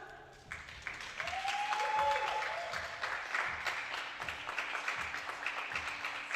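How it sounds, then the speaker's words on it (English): An audience at an air rifle competition at the 2025 European Championships in Osijek, Croatia, breaks into a round of applause, a dense, even patter of clapping that swells and then tapers slightly. "one big round of applause, ladies and gentlemen"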